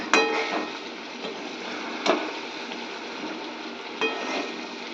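Amla and chalta pickle with panch phoron, dried chillies, salt, turmeric and sugar sizzles steadily in a pan, with a firm knock of the stirring spoon roughly every two seconds.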